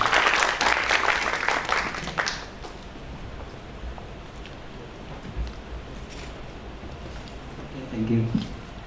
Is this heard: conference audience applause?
yes